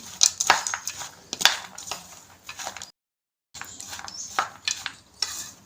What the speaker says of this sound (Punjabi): ਇਹਨੂੰ ਆਪਾਂ ਹੁਣ ਮਿਕਸ ਕਰ ਲਾਂਗੇ